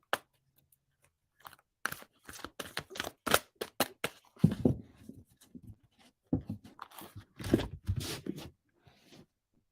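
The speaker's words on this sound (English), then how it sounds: "These are a little bit weird to shuffle" Tarot cards are shuffled by hand, close up. The cards give crisp, papery riffles and snaps in irregular bursts, with brief pauses between handfuls.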